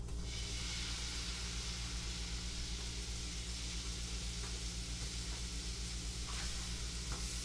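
Shrimp and scallops sizzle steadily in a hot pan, a continuous broad hiss with a low hum beneath, fairly quiet and even throughout with faint stirring ticks, no talking.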